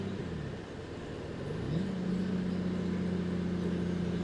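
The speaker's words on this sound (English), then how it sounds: "I do like to hear the engine." A motorcycle engine with a modified exhaust holds a steady drone that rises in pitch partway through and stays revved, loud and close, with no voices.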